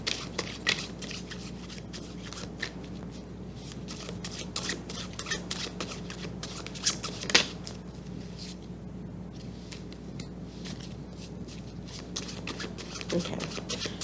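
Tarot cards being shuffled by hand, producing a soft, irregular patter of riffling and flicking card edges that runs on and off at close range at a low level throughout.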